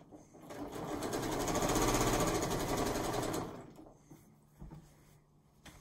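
A sewing machine runs in one fast, continuous burst of about three seconds, stitching quilt-as-you-go rows for a barn quilt, then cuts off and leaves quieter handling sounds.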